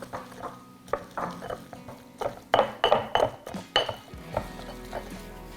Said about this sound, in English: we'll add our basil, and again we're just going to smash that down, get it working into a fine paste